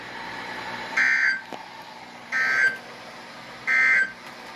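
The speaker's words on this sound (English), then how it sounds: "the National Weather Service has just activated the public warning alarm phone in a test of the weather radio's warning alarm system" Three loud, steady electronic alert tones from a NOAA weather radio warning alarm test, each lasting about half a second and evenly spaced over a low background hum, with no talking.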